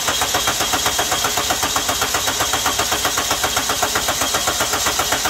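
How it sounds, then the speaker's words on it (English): Car engine cranking over at wide open throttle during a relative compression test, a steady rapid rhythmic chugging of the starter and pistons with even pulses throughout, loud and close with no talk. "So Joe, if you can go wide open throttle and crank that for a bit"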